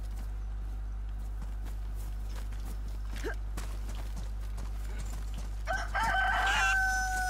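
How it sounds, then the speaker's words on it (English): Clucking and crowing from a chicken in the survival game DayZ, rising near the end over a steady low hum with faint background noise. "There's a chicken here though."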